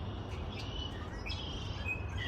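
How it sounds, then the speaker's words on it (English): Birds chirp outdoors on a mild day, with faint, scattered high tweets above a steady broadband background of ambient noise and no talking. "Just listen to the birds. When the last time y'all heard the birds chirp?"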